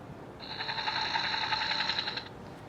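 A steady electronic whirring tone with a fast fluttering pulse, a helicopter sound effect from a Monopoly Ultimate Banking game unit, plays for about two seconds from a small speaker.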